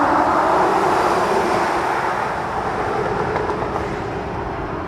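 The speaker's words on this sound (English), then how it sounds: "it sounds crazy with those tires and all that weight" A dual motor electric pickup truck on heavy tires drives past, giving a loud, close rush of tire roar and road noise that slowly fades.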